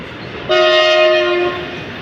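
A freight train horn sounds one long, loud, steady blast lasting about a second, then cuts off, leaving a low rumble underneath.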